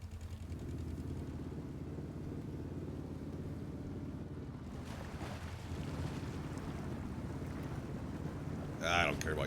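A truck in the video game SnowRunner fords a river, steady rushing water and engine rumble throughout, with a sharper splash near the end.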